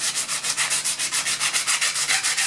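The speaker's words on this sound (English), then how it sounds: "I'm also probably going to bring out my disc sander and put a nice chamfer in here as well so I can get that weld up more tight" A disc sander grinds a chamfer into a metal edge to prep it for welding, giving a steady rasping drone that pulses in quick, even strokes, close and alone with no talk.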